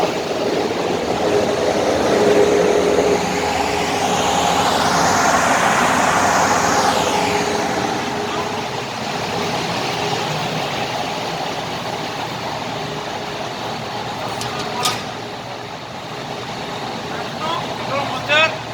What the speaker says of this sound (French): Maintenant, les grands moteurs sont démarrés